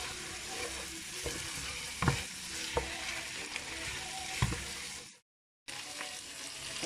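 Spinach and cabbage frying in a pan, a steady loud sizzle with occasional scraping strokes of stirring, close up, with a brief dropout near the end.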